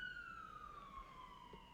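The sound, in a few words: ambulance siren passing near the police and fire station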